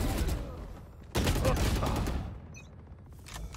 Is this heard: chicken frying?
no